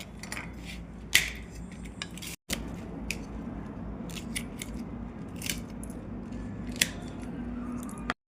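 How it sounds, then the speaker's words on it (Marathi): Aloe vera leaf being cut into small pieces with a knife after its spiny edges are trimmed, giving a steady run of close crisp slicing clicks and sharp snips, with no talking. "हे दोन्ही बाजूनी हे काटे काढून घ्यायची, अशी अशी असे छोटे छोटे काप करून"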